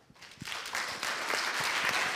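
An audience claps for a youth hackathon team at a Jugend hackt event in Munich, starting from a few scattered claps and swelling into steady, sustained applause in a room.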